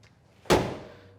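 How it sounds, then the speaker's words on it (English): A single solid 1966 Ford Mustang car door shutting with a thunk, close by, followed by a short fading resonance in an otherwise quiet space. "All right, we'll shut the door."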